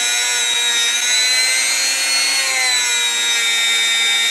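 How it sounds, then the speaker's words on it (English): A Harbor Freight rotary tool polishing a Singer 66 class bobbin case gives a loud, steady high-pitched whine with a grinding edge, running continuously and close up with no talking. "It's a rotary tool. I know, this is not a Dremel. This is a Harbor Freight."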